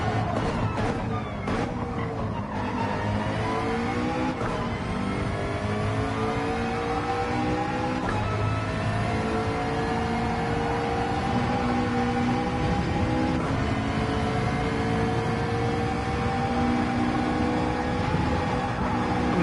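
A race car engine in Gran Turismo 7 revs and shifts continuously on track, its pitch climbing and dropping with each gear change, loud and steady throughout with no talking.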